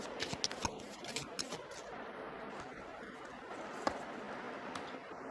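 Tarot cards handled close up during a reading: a run of crisp papery flicks and slides early on, then softer shuffling and a single sharp snap as a card is pulled, with no voice over it.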